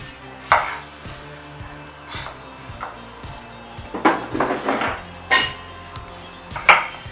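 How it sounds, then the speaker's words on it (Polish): A knife chops an onion on a board in uneven strokes, sharp close knocks with a crisp crunch, some rapid and some spaced apart. "Najpierw kroimy cebulę."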